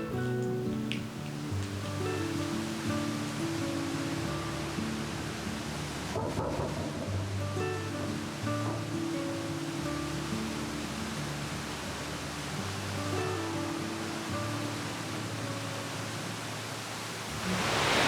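Water gushes steadily along a levada channel amid huge ferns near Sao Vicente, Madeira, a dense, continuous rushing wash that holds at an even level throughout, close by and with no voices over it.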